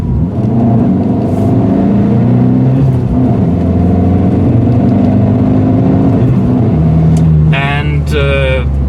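Abarth 595C fitted with a Record Modena mechanical valve exhaust, its engine droning steadily and loudly with rising tones throughout, then revving sharply near the end as the pitch climbs in quick bursts.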